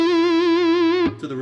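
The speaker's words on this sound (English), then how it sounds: "And then I bend that flat third" Distorted electric guitar playing a blues lick, a single sustained note bent from the flat third and held with wavering vibrato, then cut off by a brief string scrape and a new note.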